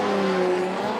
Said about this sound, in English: A dab of the handbrake now.